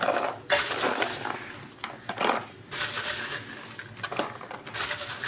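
Food is scooped into small containers while cooking, with a run of close scraping and clattering bursts broken by short pauses, and no voices.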